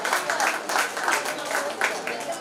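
An audience claps steadily at a Bhopal talent hunt show, the applause rising and falling in a dense, moderately loud wash.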